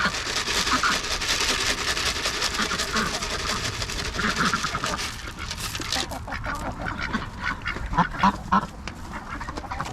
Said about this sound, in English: I didn't know you were going to feed the ducks